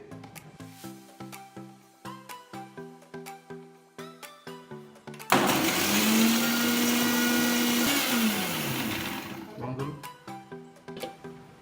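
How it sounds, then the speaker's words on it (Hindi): Mango milkshake whirred in a blender, with a loud steady motor roar that runs for several seconds and then winds down. Before and after it, rhythmic music plays with a voice over it. "उसको हम अच्छे से ब्लेंड करेंगे"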